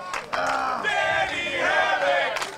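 Wrestling crowd roaring and chanting for Danny Havoc during a hardcore match against Scotty Vortekz, a loud, sustained wall of massed voices that swells after a brief quieter start.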